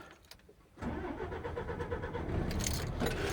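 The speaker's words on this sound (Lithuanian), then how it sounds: "Vedam variklį." A car engine cranks and catches after a near-silent moment with a faint key jingle, then settles into a steady idle that stays close and moderately loud.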